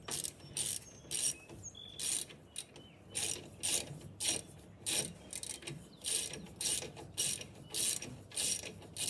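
A ratchet wrench tightens the front brake caliper bolts on a Jeep Compass, giving steady bursts of quick clicking separated by short pauses as the handle swings back, close and clear with no talking.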